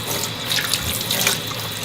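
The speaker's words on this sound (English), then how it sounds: "apply some cold water" Cold water pours steadily from a kitchen tap over fork-tender boiled potatoes for a tater pie, a continuous close splashing hiss into the sink with no talking.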